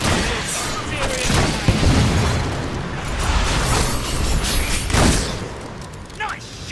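Gunfire and booming blasts in the video game Fable 3, loud bursts and rumbling impacts packed densely over several seconds, with voices shouting over the battle.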